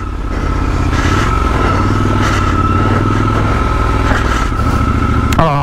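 Triumph Scrambler 1200 XE motorcycle ridden off-road on boggy ground, a loud close engine drone holding steady with shifting revs and a short clattering knock at the end.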